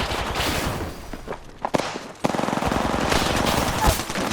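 Gunfire erupts during an Apex Legends match: rapid automatic bursts with a fast rattling rhythm, loud and close, broken by a brief lull before a sustained stream of shots.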